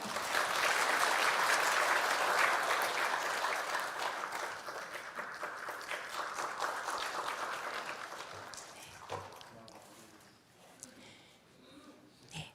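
Applause from a church congregation at a 70th-anniversary thanksgiving service, following the presentation of a plaque; broad, steady clapping that starts strong, gradually thins and fades away over the last few seconds.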